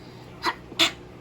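Two quick sneezes in succession, the second louder and sharper, close by with faint background noise between them.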